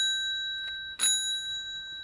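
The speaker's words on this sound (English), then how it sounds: "It does have a nice bell." A bicycle bell on a vintage Sparta Athena bicycle rings once clearly and close, with a bright metallic ding that lingers and fades over quiet room noise.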